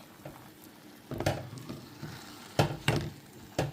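Cooked purple sweet potato being mashed with melted butter in a pan, giving soft scraping and stirring with several sharp utensil knocks against the pan, close and alone.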